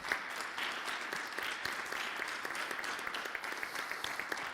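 Moderately faint applause from an audience at a conference event, an even wash of clapping with scattered distinct hand claps, continuing steadily without voices.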